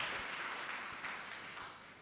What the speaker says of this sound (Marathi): आपण जोरदार टाळ्या आपल्या कंज्युमर सोसायटीसाठी आपण दिल्या पाहिजेत